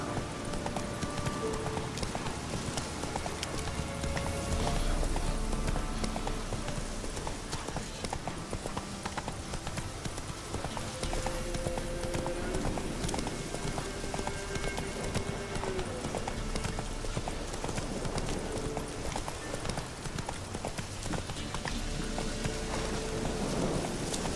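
Horse hooves clip-clop steadily in The Witcher 3: Wild Hunt, a continuous trotting rhythm under constant rain-like game ambience, with no speech over it.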